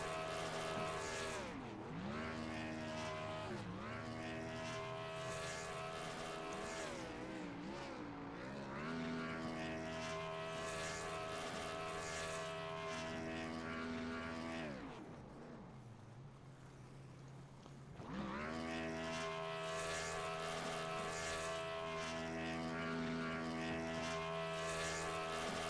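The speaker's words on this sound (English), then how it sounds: "There it is, there's the burnouts." Simulated race cars doing burnouts in a sim racing game at Charlotte Motor Speedway make a loud, droning engine roar with repeated rising and falling revs; it drops off briefly midway, then returns at full strength.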